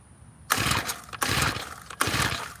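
A small tiller engine cranks in three separate pull attempts after a carburetor adjustment, each a loud, close burst of sputtering mechanical churn that dies away, with short pauses between tries.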